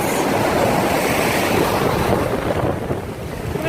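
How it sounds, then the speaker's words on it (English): Sea waves wash up on a southern Swedish beach at sunset, surging loud and close around a slatted boardwalk, with heavy wind buffeting the microphone throughout. "the water is coming up through the slats"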